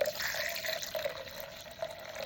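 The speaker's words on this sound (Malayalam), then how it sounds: "സ്വല്പം വെള്ളം ഒഴിക്കാം. അധികം വെള്ളം ഒഴിക്കരുത്." Water pours in a steady, faint trickle into ground lemon and mint in a blender jar, a thin continuous liquid splash with slight bubbling and no voices.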